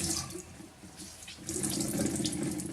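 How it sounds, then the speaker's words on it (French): A folded microfiber cleaning cloth is soaked under a running tap, with a steady, close stream of water splashing into a sink throughout and growing a little stronger partway through. "Je plie ma lingette Crisse à fibre en 4, je la mouille en totalité."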